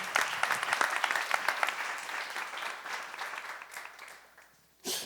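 Applause from a church seminar audience, dense rippling clapping that gradually thins and fades toward the end before a brief louder sound cuts in.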